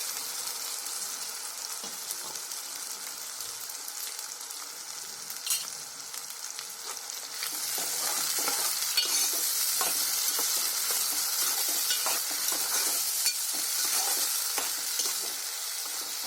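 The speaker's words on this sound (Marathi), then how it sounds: "आता त्याच्यामध्ये टोमॅटो बारीक केलेला आहे मिक्सरला ते ओतायचं" Blended tomato poured into a hot pan of tempered spices for sweet and sour masoor dal, a steady sizzle that swells louder partway through as it is stirred, close and continuous.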